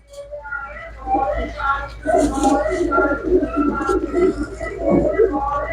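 Pigeons offered for sale, white-beaked birds with dark eyes, coo intermittently close by while someone talks over them for most of the stretch.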